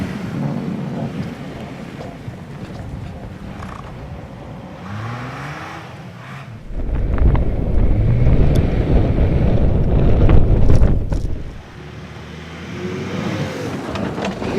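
A 2013 Mazda CX-9 with all-wheel drive pushes through deep snow, a low rumbling surge of engine and churning that swells for several seconds and then eases, under gusty wind buffeting the microphone.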